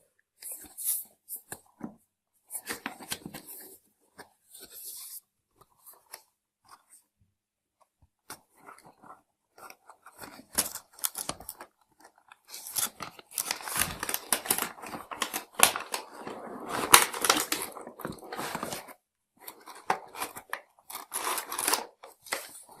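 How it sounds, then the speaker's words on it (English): Packaging for a small Wi-Fi camera drone is handled close up, with bursts of crinkling plastic, cardboard rustling and clicks separated by quiet gaps, and no talking. "let me unbox this one and see what we have inside"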